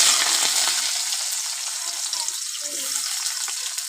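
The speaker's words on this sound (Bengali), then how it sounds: "তেল গরম হয়ে গিয়েছে, এবার পেঁয়াজ কুচি," Chopped onion hits hot oil in a pan for a rohu fish curry with new potatoes and cauliflower, giving a loud, steady close-up sizzling hiss that fills the whole short stretch.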